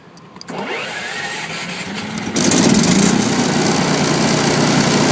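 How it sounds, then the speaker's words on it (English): A Zanotti 1400 power pack engine catches after a quiet start, settling into a steady close mechanical drone that jumps louder and rougher at about two seconds as it runs up to speed. "The engine fires up."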